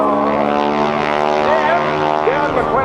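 A propeller airplane at an airshow drones overhead with a loud, steady engine roar carrying strong harmonic tones that shift slightly in pitch as it passes.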